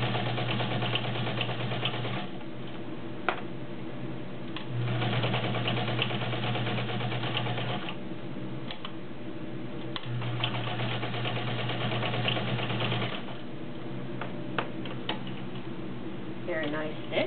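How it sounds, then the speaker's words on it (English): Vintage Kenmore 1207 heavy-duty sewing machine stitching through layered upholstery, a steady mechanical whir and hum that runs in long spells with short pauses, close by, with a person talking over it throughout. "Not many machines will go through 5 layers of denim with a perfect stitch."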